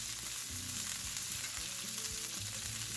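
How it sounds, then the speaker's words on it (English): Bacon crisps in a pan beside searing cheeseburger patties, giving a steady, dense sizzle and crackle that carries on at an even level with no voices. "have the bacon continue cooking as the burgers cook"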